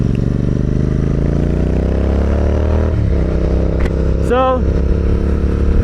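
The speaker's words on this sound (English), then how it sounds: "And so this bike is a Royal Enfield" Engine of a Royal Enfield motorcycle running loud and steady at idle, a dense rumbling drone throughout with a brief clatter and a short rising-falling whine toward the end, someone briefly speaking over it.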